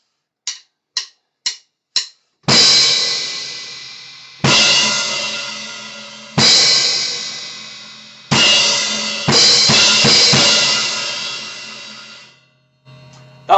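Drums open with four sharp stick clicks, then a series of loud crash cymbal hits, each ringing out and fading before the next, with no voices.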